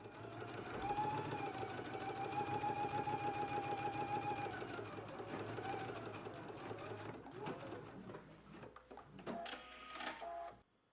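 Rapid rhythmic clatter of a sewing machine top stitching along a pocket edge, running steadily and close up, then slowing and breaking into a few short bursts and clicks before falling quiet.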